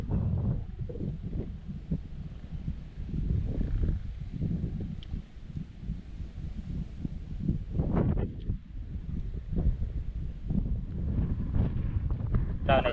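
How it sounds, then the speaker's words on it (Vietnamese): Strong wind buffets the microphone on a small fishing boat out setting nets, a constant rough roar with gusts, while people talk loosely over it. "trời này trời gió mạnh ghê."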